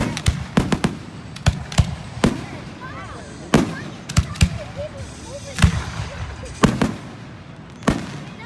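Fireworks display at a middle school, with a string of sharp, loud bangs and pops bursting at irregular intervals, some crackling between them, and people talking faintly in the background.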